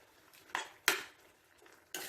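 A spoon knocks and scrapes in a pan while mashed tapioca is mixed with cooked fish for kappa meen puzhukku, giving a few sharp, separate clinks against near silence.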